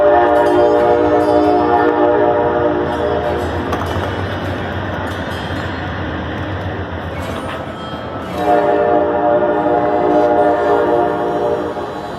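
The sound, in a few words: passenger train departing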